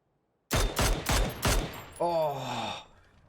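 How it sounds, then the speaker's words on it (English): Four sharp, loud gunshots from the battle royale game PUBG ring out in quick succession, followed by a falling, whistling tonal sweep that fades away. "Oh, Azator just missing out that shot there"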